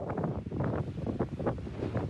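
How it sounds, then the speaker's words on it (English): Hurricane Ian's winds gust in steady, broad bursts across a storm-surge flooded stretch of southwest Florida, a continuous roaring buffet against the microphone with no voices. "you can hear some of that wind still gusting in the background"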